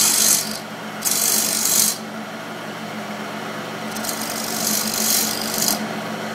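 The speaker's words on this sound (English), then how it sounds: "we'll start hollowing this out here. You just work your way out to the line." A turning tool cuts into a small wooden candle stand spinning on a lathe, hollowing out its top in bursts of harsh, scraping rasp separated by quieter stretches of the machine's steady hum.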